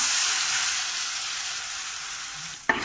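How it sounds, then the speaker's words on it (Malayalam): Tamarind water poured into a hot pan with curry leaves for a jaggery bitter gourd pickle, a loud, steady hiss of sizzling close by, ending in a brief clatter. "ഇനി അതിലേക്ക് ആവശ്യമുള്ള പുളിവെള്ളം ഒഴിച്ചു കൊടുക്കാം"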